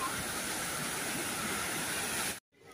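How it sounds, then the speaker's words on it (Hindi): Rani Nala waterfall near Rohtang Pass in monsoon season roars as a steady, dense rush of falling water, close and constant, then cuts off abruptly near the end. "ये जगह है दोस्तों रानी नाला वाटरफॉल।"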